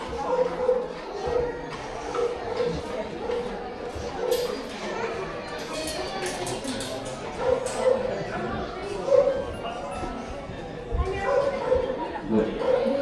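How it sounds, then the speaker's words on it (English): A sheepdog barks in repeated short bursts while mustering sheep into a shed pen at a wildlife park, close and moderately loud, with people talking and chattering around it. "In turn, the dog will control the sheep."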